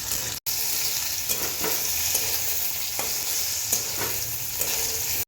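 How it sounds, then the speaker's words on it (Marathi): Thin potato slices stirred in hot oil for sabudana khichadi: a steady loud sizzle of frying with periodic scraping stirs of the spoon through the pan, continuous and close, no voices. "तो बटाटा हलवून घेऊया."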